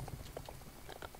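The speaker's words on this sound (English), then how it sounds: "Your horse is getting here." Soft, fairly distant hoof taps of a horse arriving in Star Stable Online, a light irregular patter against steady background ambience, with no talking.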